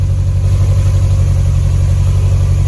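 A Toyota MR2 engine idles steadily on a cold start while missing on one cylinder, giving a close, constant, loud low rumble with a faint uneven pulse running through it.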